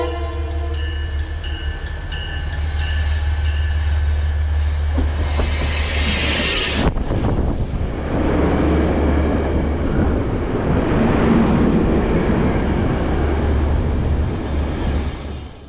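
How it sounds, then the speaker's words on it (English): Southbound Metro-North train 1889 with Shoreliner cars pulls into Merritt 7 station toward South Norwalk: sustained tonal notes open over a deep low hum, then a cut gives way to a louder rolling rumble as the cars coast in. "Metro-North train 1889 is seen arriving at the Merritt 7 station"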